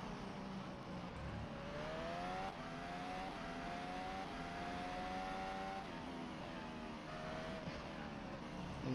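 Max Verstappen's Honda-powered Red Bull Formula 1 car works through the corners in qualifying at the Japanese Grand Prix, a high engine whine rising and falling with gear changes, heard distantly and continuously under a steady background roar.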